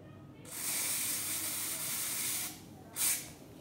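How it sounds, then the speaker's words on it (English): An aerosol can of insect spray fires at a fly indoors: a steady, close hiss for about two seconds, then a pause and a second short puff. "Sorry about that noise, I just need to spray a fly"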